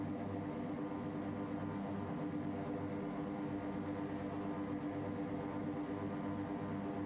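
OV-10 Bronco turboprop in a flight simulator: a constant, droning propeller and engine hum with steady tonal whine, loud and unbroken throughout, no talk.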